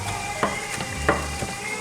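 Ground beef fries in a pan for tortilla soup, giving a steady close sizzle with a few soft stirring scrapes and no talking.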